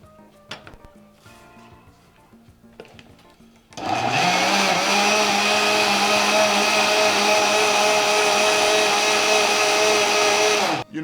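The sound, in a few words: blender blending gazpacho with chili and basil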